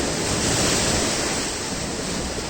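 Sea waves crash through rocks on the Konkan coast, a loud, steady rushing surge of water with some wind buffeting the microphone and no talking.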